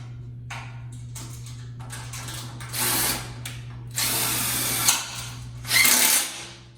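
A power tool tightens bolts on a Stiletto one-man kart stand caster in three loud whirring, ratcheting bursts, each lasting about a second, with a steady low hum and lighter clicks before them.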